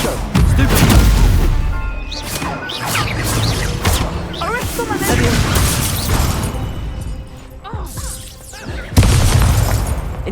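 Incendio fire spells are cast in Hogwarts Legacy combat, producing loud repeated bursts and crashing blasts mixed with other battle effects and shouted voices.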